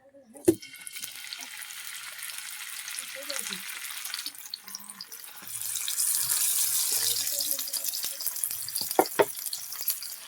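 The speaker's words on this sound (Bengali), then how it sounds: "তেল দিয়ে দেবো, তা গরম হয়ে গেছে। এক ঘন্টা হয়ে গেছে। সব মাছগুলো দিয়ে দেবো একটা একটা করে।" River fish drop one by one into hot oil, setting off a sizzle that builds and grows louder and steadier, with a few sharp clinks and faint low voices in the background.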